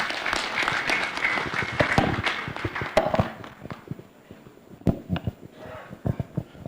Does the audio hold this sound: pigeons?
no